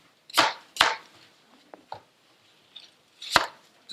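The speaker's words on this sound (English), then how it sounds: "I'm going to just go ahead and give it a rough chop." A knife rough-chopping an apple on a cutting board, a few sharp, close knocks spaced irregularly with quieter taps between.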